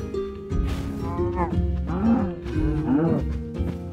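Cow mooing in Minecraft, several drawn-out bovine moos one after another, loud and close, with a steady game background and no talking.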